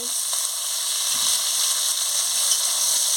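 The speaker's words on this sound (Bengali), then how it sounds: "ঢ্যাঁড়সটা দিয়ে ভালো করে ভেজে নিচ্ছি।" Okra added to fried onions and panch phoron in a pan for a Bengali chorchori: a loud, steady sizzle and hiss with a few soft stirring knocks, close and continuous throughout.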